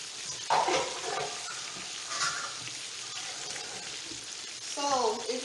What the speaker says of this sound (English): So now I'm putting my habanero peppers and ginger and garlic. Everything gonna fry together.